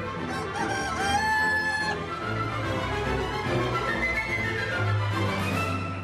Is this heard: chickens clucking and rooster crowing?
yes